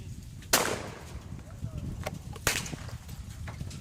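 A pistol primer fired in a .458 Win Mag rifle cartridge in a Savage 111 rifle gives two sharp cracks about two seconds apart, with lighter ticks and low rumbling noise around them.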